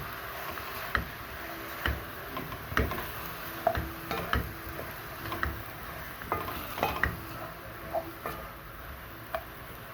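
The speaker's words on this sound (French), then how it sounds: "Donc là, on va bien mélanger l'ensemble." Sausages with chopped onions and garlic being stirred in a pot for a Réunion rougail, giving irregular scraping knocks and clicks from a utensil at a steady, unhurried pace over a faint sizzle.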